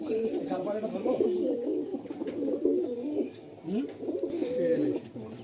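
Malbai flying pigeons in a loft, cooing in low, throaty, overlapping rolls that carry on without a break, with a voice mixed among the calls.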